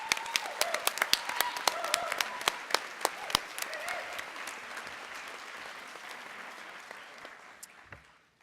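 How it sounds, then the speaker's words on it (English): Audience applause for nursing faculty at a university nursing convocation and pinning ceremony, a steady patter of many hands with sharp individual claps standing out early, fading gradually toward the end. "let's have a round of applause for our DNP faculty"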